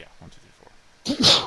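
A single sharp sneeze bursts out loud and close during a tabletop role-playing game session, right after a stretch of quiet, low chatter.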